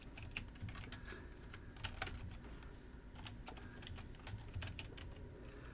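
Keys clatter steadily on a computer keyboard as CSS code is typed into VS Code, a close, fairly quick run of uneven taps with small pauses between bursts and no voice.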